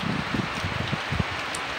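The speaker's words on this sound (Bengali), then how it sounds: "অনর্গল বৃষ্টি হয়েই যাচ্ছে চারিদিকে" Dense, steady hiss of heavy rain pours down without a break, loud and close, with faint gusty rustling mixed in.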